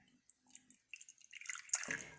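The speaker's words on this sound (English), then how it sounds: "Put some water in there." Water is poured into a bowl of flour to make biscuit dough, heard as a few soft drips and then a short, close splashing trickle that builds toward the end.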